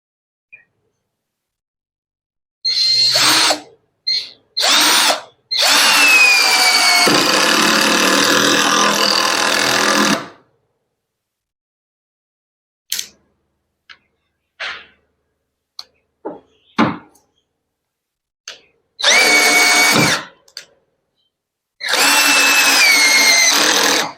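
A power drill drives a 1.5 inch screw into wood, sounding as loud, close whirring bursts: several short pulses, one long run, then two more extended runs after brief gaps with faint knocks between.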